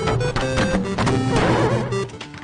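A loud crash of wooden barrels breaking apart, Donkey Kong style, with clattering impacts and a jumble of tonal noise over a couple of seconds.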